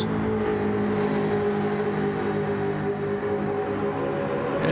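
A Jaguar race car in a racing video game runs at steady high revs down a straight, its engine note loud and sustained, holding a constant pitch with no breaks or talk.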